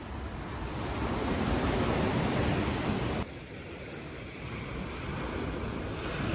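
Ocean waves washing up on a beach at Kribi, Cameroon, a steady broadband roar of surf with wind noise on the microphone, continuous and fairly loud with no talking.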